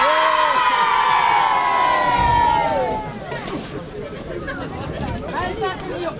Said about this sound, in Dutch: En nog één keer juichen!